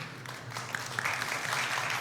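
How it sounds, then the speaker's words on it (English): Audience clapping after a performance at an evening business talk, a steady wash of many hands that thickens toward the end, moderately loud and continuous with no voices. "Let's applaud it."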